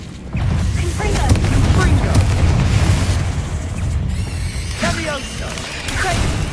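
Confringo explosion spell blasts in the wizarding game Hogwarts Legacy, loud booming bursts with crackling debris, rolling on continuously with a second blast near the end; a voice speaks over it.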